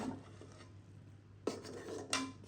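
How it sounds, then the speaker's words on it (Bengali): Beef tripe curry being stirred in a cooking pot, with a couple of sharp scraping clinks of a spoon against the pot over a low steady hum and soft bubbling. "এটা এখন বারবার নাড়তে হবে যাতে নিচে যে লেগে না যায়"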